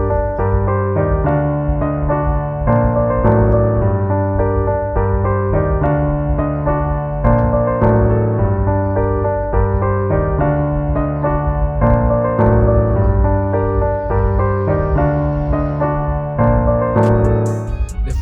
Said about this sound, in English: Here is the sound of the piano.